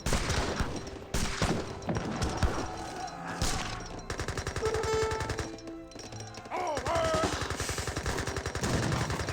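Carbine cavalry and Gatling guns trade fire in the strategy game Age of Empires 3, with rapid, dense bursts of gunshots and crackling volleys, plus a few crashes, continuing throughout.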